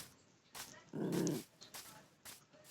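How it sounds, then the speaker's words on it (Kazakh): A dog growls in one short, low, rough burst, fairly close, with a few other brief noises before and after it and no talk. "мынау қандай ит"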